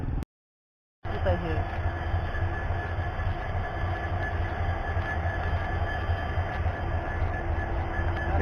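A passenger train with AC coaches runs along the line in Assam, a loud, steady rumble and rattle of the wheels heard from on board, which cuts out briefly near the start and then continues evenly.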